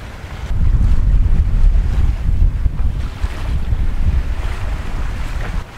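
A sailboat glides along the open sea on a fine day, wind buffeting the microphone over a steady wash of waves and water rushing past the hull, loud and continuous throughout.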